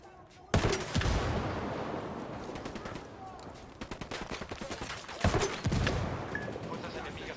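Bursts of rapid automatic gunfire in the video game Ghost Recon, loud and close, with sharp impacts and rattling volleys that come in waves and fade between them.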